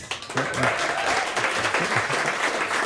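Studio audience applauding at an acoustic radio session in a loft, a steady, dense wash of clapping close by that fills the whole stretch, with a few faint voices mixed in.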